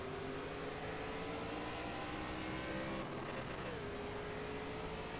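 ARCA stock car engine in iRacing at Texas Motor Speedway, steady loud drone rising in pitch as it accelerates from the race start, with other cars roaring around it and no talk.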